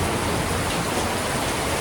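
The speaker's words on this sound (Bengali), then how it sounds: "মানে প্রচুর বৃষ্টি হচ্ছে" Heavy rain pours down as a dense, unbroken roar of noise, loud and steady throughout, with no voices.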